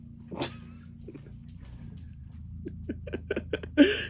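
A pet dog shuffles and jingles its collar or tags, with soft movement noises, a brief snuffle and a louder jangle at the end, all close and quiet.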